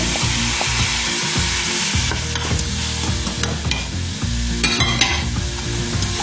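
Salmon frying with sautéed cabbage and vegetables: a loud, close, steady sizzle with repeated stirring scrapes and clatter of a utensil in the pan.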